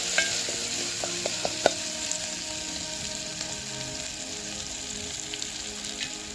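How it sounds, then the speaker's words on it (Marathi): Onion and tomato frying in a pan make a soft, continuous sizzle, with a few sharp spoon taps against the pan early on. "कांदा आणि टमाटर मस्तपैकी त्याचा करपून घेतला आहे मी."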